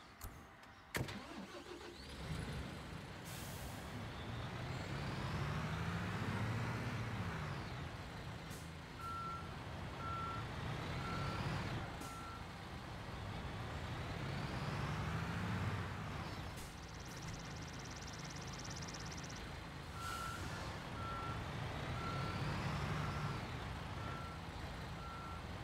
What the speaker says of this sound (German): Fahre rückwärts an den Aufnahmebehälter des Schwarzdeckenfertigers heran und hebe mit R den Frachtraum des Kippers